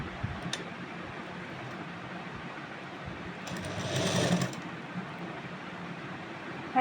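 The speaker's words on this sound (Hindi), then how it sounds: "अब ऊपर की सिलाई लगाएंगे।" Sewing machine stitching a Rajasthani kanchli blouse, a faint, quiet hum with a short, louder burst of rapid stitching partway through.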